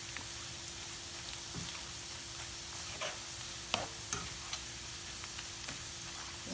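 Dahi barhe, lentil fritters, fry in hot oil with a steady soft sizzle and an occasional faint tick or pop, quiet and even with no voices.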